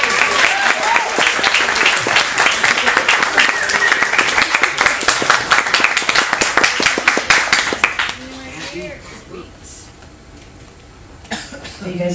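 A crowd at a cruise-ship open mic gives a performer a loud, sustained round of applause for about eight seconds, mixed with a cough, before it fades into quieter talk.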